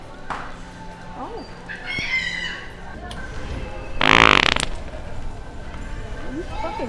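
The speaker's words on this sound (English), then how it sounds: "This is a fart toy." A fart noise toy lets out a loud, buzzy, sputtering blast partway through, set among scattered creaks and faint voices in a room.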